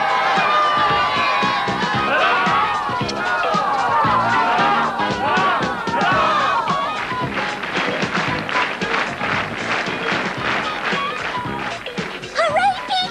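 An animated crowd cheers the winner of a gold medallion contest, a dense, continuous roar of excited voices and shouts that stays loud throughout, with some calls standing out near the end.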